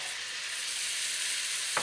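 Onions sizzle in hot oil in a pot while carnitas are being cooked, a steady, close crackling hiss that continues evenly throughout with one small clink near the end and no talking.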